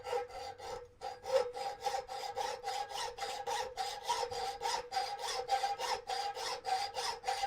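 A saw fitted with a fresh blade cuts through a gate latch in steady, rapid back-and-forth strokes, a close rasping rhythm of about three or four strokes per second with no voices.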